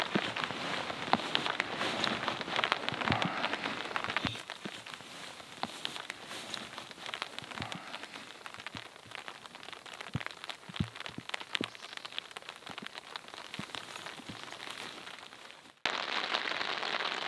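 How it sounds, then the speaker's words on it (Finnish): Steady rain patters on a family tent roof overhead, a dense hiss with occasional louder drops, continuous throughout and briefly dipping near the end. "Ja nyt se sade rupeaa sitten kiihtymään vähitellen."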